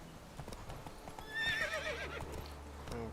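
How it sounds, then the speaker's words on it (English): Horse hooves clip-clopping in a gallop with a loud whinny rising midway, from a horse in The Witcher 3, steady rhythmic hoofbeats over a low game ambience. "É um cavalo inútil mesmo."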